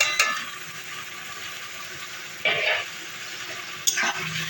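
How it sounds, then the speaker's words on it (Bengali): Ground cumin, chili and turmeric fry in a pan for an egg-omelette curry, a low steady sizzle broken by two brief, louder stirring scrapes. "একসাথে ভাজা ভাজা করে নেব। একসাথেই কষিয়ে নেবো, একবারেই দিয়ে দেবো জিরে গুঁড়ো, লঙ্কা গুঁড়ো, হলুদ গুঁড়ো"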